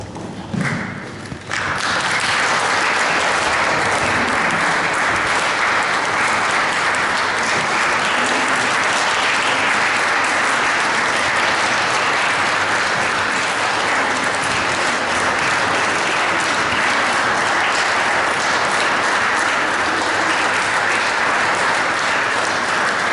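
A Protestant congregation at a Sunday baptism service in Paris applauding as the children pass through the middle, loud sustained clapping from a full church that continues unbroken for over twenty seconds.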